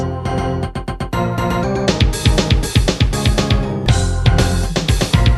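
An upbeat rendition of Smells Like Teen Spirit built from bright, chirpy Super Mario 64 sound effects over punchy, steady drum hits, loud and busy throughout.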